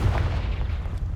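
Confringo explosive spell cast in Hogwarts Legacy, a single short, deep booming blast with a rumbling low end that quickly fades within about a second.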